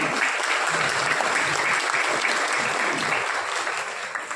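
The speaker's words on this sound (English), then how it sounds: "Everyone, a big round of applause for Sir, please." Steady applause from a sizable audience at a national law conference fills the whole stretch, dense and even, with no voices rising above it.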